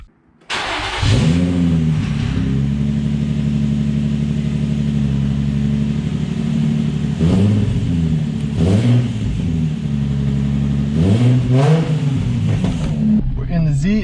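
A Nissan 350Z engine with a newly installed loud exhaust starts up on jacks and idles with a deep, throaty rumble, rising in several loud revs before settling, close by.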